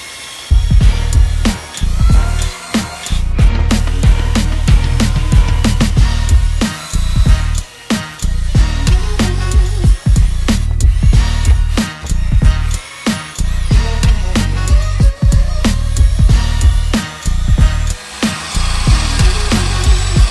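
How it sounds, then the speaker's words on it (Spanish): An electric drill fitted with a sanding kit polishes motorcycle enduro plastics, giving a loud, steady grinding and rubbing whir that runs continuously with brief dips as the pad shifts across the surface. "vamos a mecanizar el sistema con un kit para taladro"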